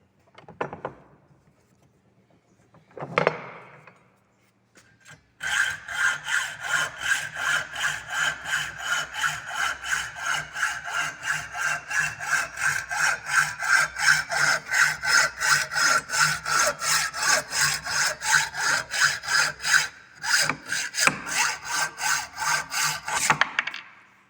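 Hand saw cutting the next side of a metal workpiece in a fitting workshop, a long run of steady rhythmic back-and-forth strokes, close and loud, following a few brief scrapes and a short pause at the start.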